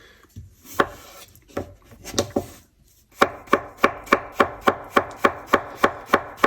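Potatoes chopped with a knife on a board for Spanish tortilla: a few scattered cuts first, then a brisk, regular series of about a dozen sharp, close thuds; no talking.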